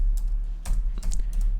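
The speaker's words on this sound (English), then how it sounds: "I have to type this 3 times." Typing on a computer keyboard: a short burst of several quick, clicky keystrokes at an uneven pace, close and fairly quiet, with no talk.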